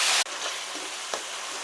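Onion paste hitting a hot pan where brinjals were just fried, a loud burst of broadband sizzling in the first quarter second that settles into a steady, softer frying hiss with a small pop near the end.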